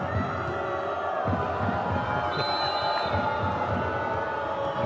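Super fans in the stands at a professional women's volleyball match between Fenerbahçe Medicana Istanbul and Igor Gorgonzola cheer loudly and steadily, a dense crowd roar with scattered shouts and a few whistles.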